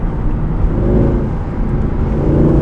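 Mercedes-Benz C63 AMG 507 Edition with a naturally aspirated V8 engine, a loud, steady low rumble that holds throughout from close by, with no talking.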